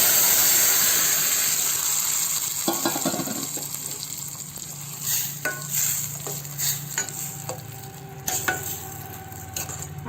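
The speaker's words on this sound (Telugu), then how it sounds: "ఇప్పుడు పప్పు పోయాలన్నమాట. ఎర్రగడ్డలు కూడా ఇట్లా గోల్డెన్ కలర్లో ఉంటేనండి పప్పు టేస్ట్గా ఉంటుంది." Cooked dal is poured into golden fried onions in a hot pan, giving a steady close sizzle with repeated scraping stir strokes and soft clinks, louder at the start and settling into intermittent stirring.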